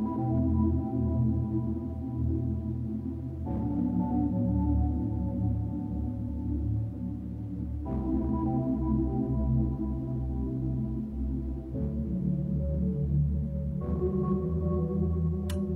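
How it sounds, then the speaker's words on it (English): Moody synth preset named He Loved Her from the Impulse bank, a sustained chordal pad with changes roughly every four seconds, steady and fairly loud, playing alone without any voices. "Okay, so I've found a sound. It's called He Loved Her from me and XY's Impulse Bank."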